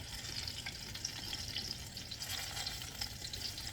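Homemade apple fritters frying in hot oil, a steady soft sizzle and crackle with scattered pops, fairly faint and continuous with no talking.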